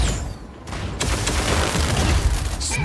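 Rapid mech gunfire and booming weapon impacts in the Mech Arena video game, loud and continuous, with a sharp burst at one second followed by sustained crackling fire and a synthetic effect near the end.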